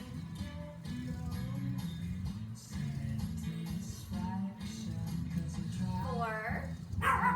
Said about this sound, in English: Why are the dogs all barking?